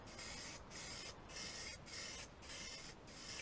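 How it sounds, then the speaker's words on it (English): Aerosol spray paint hissing onto small Tamiya RC semi truck parts in four steady bursts with brief pauses between them, close and continuous, with no talking. "I can spray under to catch all the edges"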